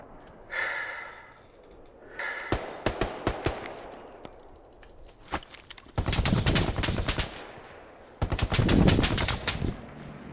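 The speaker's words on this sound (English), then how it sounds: "the machine gun's right on target here" Bursts of machine gun fire in the World War II shooter Hell Let Loose, with scattered shots around 2.5–5 s, then two loud sustained rapid-fire bursts, the second the heaviest, amid a noisy battlefield.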